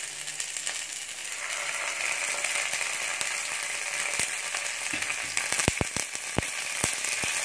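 Onions frying in hot oil with ginger garlic paste for beetroot sambar, a steady dense sizzle throughout, punctuated near the end by a few sharp clicks and taps of a utensil against the pan.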